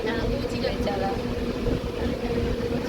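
Inside a carriage, a train moves off again after a long halt, giving a steady low rumble and rattle with faint voices in the background.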